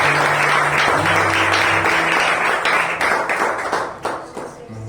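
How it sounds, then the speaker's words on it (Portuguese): A church congregation claps together in loud, dense applause that runs steadily for several seconds, then thins and fades toward the end. "dá uma salva de palmas ao Senhor"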